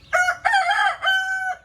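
A chicken kept on a rooftop gives one loud, close, drawn-out call in three parts, rising and breaking much like a crow, with nothing else heard around it.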